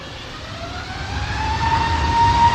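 A Pegasus airliner comes in to land at Manchester Airport, a steady engine roar with a rising whine that grows gradually louder as it approaches, heard from a distance with no voices.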